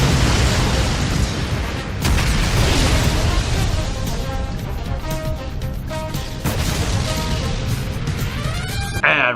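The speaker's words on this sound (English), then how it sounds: "We get a very Robert Rodriguez-like explosion scene." Explosion scene from the 1984 tokusatsu series Space Sheriff Shaider, with a run of loud booms and bursts over a rumbling low-end roar, sharp crashes punctuating a dense, continuous clamor.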